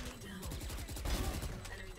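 Rapid gunfire in the video game Valorant, a quick rattling burst of shots with a voice talking over it.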